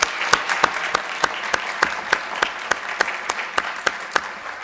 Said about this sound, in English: I would just like to give everybody one more round of applause